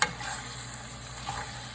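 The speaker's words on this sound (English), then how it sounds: "mix everything all up just like this" Wooden spoon stirring canned red beans with plant-based sausage for red beans and rice, a soft scraping and swishing over a faint steady sizzle, continuous and close with no talking.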